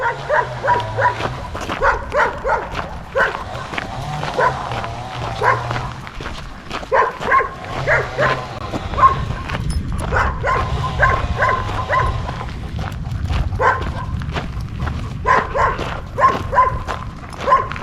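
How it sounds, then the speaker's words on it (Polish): Dogs bark repeatedly in bursts across a busy outdoor scene during a walk before a storm, the yaps coming in clusters at moderate distance with a low background rumble. "Psy szczekają."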